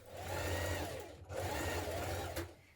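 A sewing machine runs steadily while basting the pocket of a pair of summer trousers at the side seam and waistline, a close, even motor whir with a brief pause partway before resuming.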